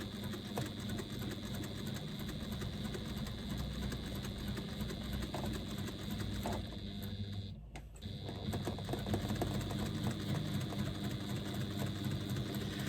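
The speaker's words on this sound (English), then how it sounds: "stitch along the other side of the zipper to attach the zipper to the second lining panel" A sewing machine stitches a zipper onto a bag lining panel, a steady close mechanical whirr with rapid needle clatter, pausing briefly midway before running on.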